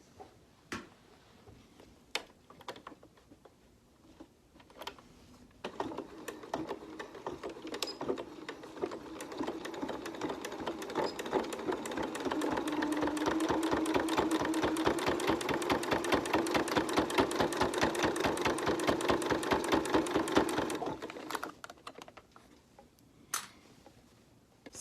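Sewing machine stitching fabric and batting for a bowl cozy, a few scattered clicks and then a run of rapid, even stitching that swells louder and steadier before stopping abruptly, close and alone.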